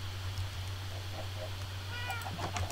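A cat meows a few times in the Minecraft video game, short mewing calls over a steady low background hum, with no speech over them.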